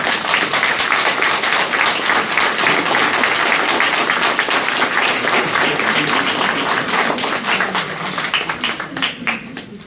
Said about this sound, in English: if you want to applaud for our candidates, maybe that would be appropriate